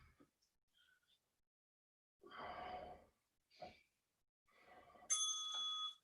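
A single bright bell ring during a bodyweight bootcamp workout session, a sharp chime that sustains briefly near the end, preceded by faint breathing and exertion sounds.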